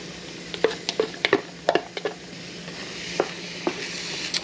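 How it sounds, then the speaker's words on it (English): Diced onions and peppers sizzling in a pan over medium heat, a steady frying hiss punctuated by a series of sharp scraping clicks from a utensil stirring them, close and without talk. "in goes our onions first. Everybody a little mixing around. Peppers in next."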